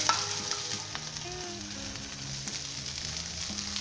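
Green onion frying in garlic-infused oil gives a continuous soft sizzle and crackle, fairly quiet and close, with light stirring and no speech.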